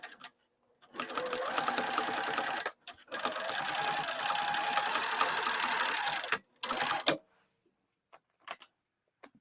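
A sewing machine stitches a flat fabric cross-body bag, its fast steady needle chatter running close and loud in two long bursts and a brief third run, separated by short pauses, then a few faint handling clicks as it stops.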